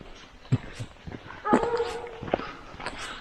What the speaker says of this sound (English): Hunting dogs, doing hunting dog stuff.